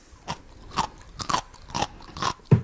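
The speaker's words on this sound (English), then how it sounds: "Me too, said Daddy Pig, munching away." Cartoon pig munching food at a pirate picnic: six crunchy chewing bites at a steady rhythm, each a short crisp crunch, close up with no voices over them.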